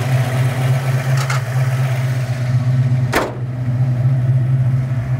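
A Foxbody Mustang engine idles steadily at about 1,000 RPM with a low, even rumble close by, broken by a couple of brief sharp clicks or clunks.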